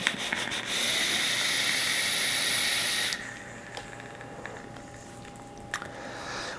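Bulk RTA atomizer fired at 85 watts with airflow wide open, a loud airy hiss of drawing vapor for about three seconds, then a quieter exhale and faint background.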